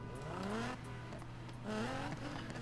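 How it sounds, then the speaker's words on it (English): A car engine in the racing video game Need for Speed cranks to life and then revs up and down, producing loud, rising and falling engine tones with no talking. "And you actually can turn your engine off. Just listen to it start up."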